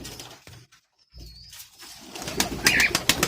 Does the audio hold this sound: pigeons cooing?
yes